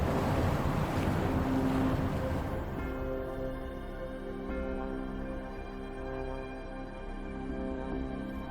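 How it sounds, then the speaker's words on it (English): Water draining away as the level drops in the video game Wuthering Waves: a loud broadband rushing wash that eases after a few seconds into a softer steady flow beneath sustained musical tones. "The water level just dropped again."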